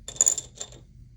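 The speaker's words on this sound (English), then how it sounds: "you roll the dice and save the amount" Dice rolled in a board game, two quick clattering bursts of rattling and clicking, close and crisp, then silence.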